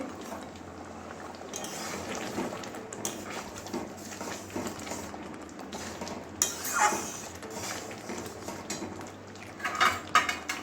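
A spoon stirs garam masala into mung dal cooked with pui shak. Soft scraping and clinking against the pot goes on steadily under a low background hum, with a few louder metallic taps.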